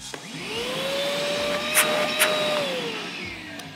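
A DIY battery-powered cyclonic workshop vacuum cleaner runs with a loud, steady whine that rises as the motor spins up, holds and then drops, close by with no talk.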